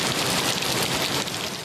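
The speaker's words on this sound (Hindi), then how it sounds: "सिंध, पंजाब और खैबर पख्तूनख्वा के मुख्तलिफ अजला में बारिश।" Heavy monsoon rain pours down across districts of Sindh, Punjab and Khyber Pakhtunkhwa, a dense, steady roar of downpour with no voices.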